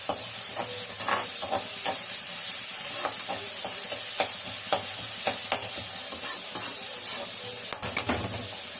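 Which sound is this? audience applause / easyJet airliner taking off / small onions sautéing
small onions sautéing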